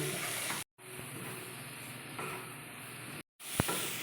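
A spice paste of turmeric and chilli powder sautés in hot oil, giving a soft, steady sizzle and hiss. Faint stirring scrapes run underneath, and the sound cuts out briefly twice.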